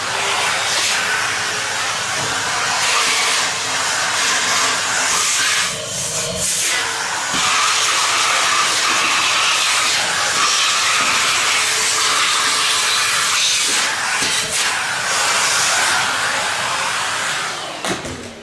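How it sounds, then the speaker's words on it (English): A vacuum cleaner sucks out the valve holes of an 1865 Forster & Andrews pipe organ under restoration, a loud continuous airy roar and hiss with brief dips and shifts in tone as the nozzle moves across the holes. "I think we'll just vacuum those holes out just in case."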